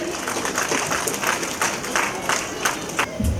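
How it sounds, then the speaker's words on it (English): Parents at a school annual day applaud the children, a steady wash of crowd clapping with rhythmic accents throughout, ending in a low thump. "So parents, a big round of applause for these children"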